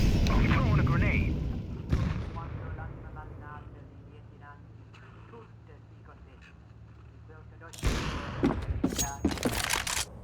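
A grenade blast in a first-person shooter game lands as a loud, heavy boom at the start, then a long low rumble, with a second burst of sharp cracks and gunfire toward the end.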